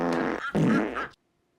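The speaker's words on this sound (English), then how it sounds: "And then comes the farts." A loud, drawn-out comedic fart sound effect from The Nutty Professor remake, a sputtering blast with a brief break, then cutting off to silence.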